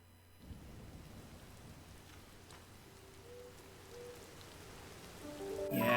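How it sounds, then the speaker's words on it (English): Rain pattering steadily in the video game Tears of the Kingdom, with low rolling thunder underneath, the storm swelling louder toward the end before a sharp bright burst. "it's thundering out here"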